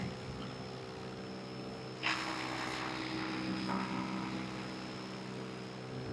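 An electric paramotor hums steadily in flight, with a constant tonal motor whine over wind rush and a sudden louder gust of wind about a third of the way through.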